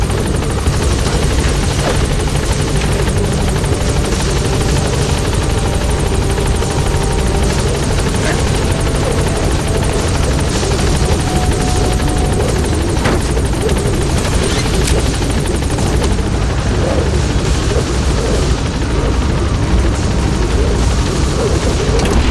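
The Pequod helicopter in the video game Metal Gear Solid V: The Phantom Pain gives off loud, continuous rotor thumping and engine roar throughout, dense and steady, with no talk over it.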